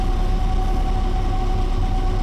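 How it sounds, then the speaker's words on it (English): A diesel locomotive engine, an AC4400, idles steadily in a low continuous rumble with a faint tonal hum, close and unbroken throughout, with no voices. "As far as recording sounds, how I get engine sounds, it's this."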